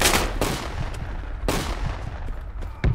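Gunfire in the military shooter Project Reality comes as loud, sharp shots, several spaced cracks with rumbling tails and a closer burst at the end, heard without talk.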